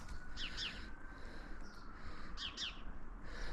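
Small birds at a garden bird table give two short bursts of high chirps, one near the start and one past the middle, over a steady low outdoor rumble.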